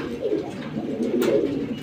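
A pair of military red pigeons, one sitting on eggs, coo softly and continuously close by in a low, rolling murmur, with no voices over it.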